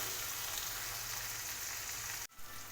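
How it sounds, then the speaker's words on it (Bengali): Chopped onions frying in oil in a pan for a bitter gourd dish, a steady close sizzle that holds evenly and then cuts off abruptly near the end. "এবার আমি ওতে পেঁয়াজ কুচি দেবো। পেঁয়াজটা লাল করে ভেজে নিতে হবে।"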